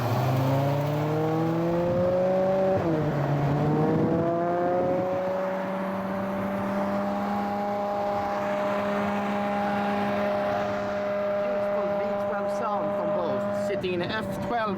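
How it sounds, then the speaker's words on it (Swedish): Two black Ferraris, an F12 Berlinetta and a 599 GTO, race as engine tones rise and sweep through gear changes, a loud sustained howl that climbs, dips at a shift, then holds steady before fading near the end. "It's a black F12 Berlinetta versus a black 599 GTO."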